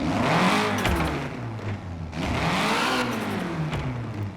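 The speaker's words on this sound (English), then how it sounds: "Let's have a listen of what the stock engine sounds like" A stock 1992 Toyota Celica GT-Four engine in the video game Forza Horizon 4 revs hard, climbing in pitch, dropping, then surging again in two long sweeps, loud and close, with no talking.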